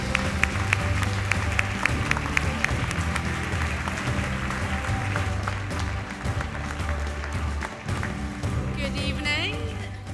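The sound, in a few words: audience applause at awards ceremony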